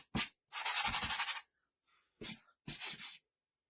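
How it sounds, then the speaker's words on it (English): Sandpaper rubs along the edges of a painted craft piece in a few short, scratchy passes, close up and alone, with brief pauses between strokes. "I just sanded the edges to kind of take it"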